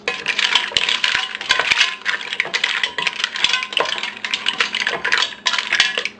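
Mussels are stirred in a cooking pot with ginger for tinolang tahong, giving a busy rattling clatter of shells knocking against metal in quick uneven bursts, close and fairly loud, with no talking.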